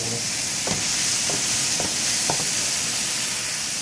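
Mushrooms roasting in a pan next to venison, a steady hiss of sizzling broken by a few faint scraping stirs, close and alone with no talk.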